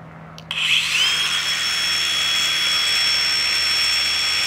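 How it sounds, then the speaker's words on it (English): A helicopter passes overhead outdoors: a loud turbine whine starts abruptly and holds steady, with bright high tones over a broad rushing roar and no one speaking. "Don't mind the helicopter."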